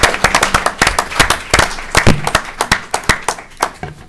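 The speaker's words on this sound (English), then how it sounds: "I think we owe a round of applause to Dr." A small group at a county commissioners' meeting claps for Dr. Green, a sparse run of sharp, distinct hand claps close by, irregular in rhythm and gradually thinning out.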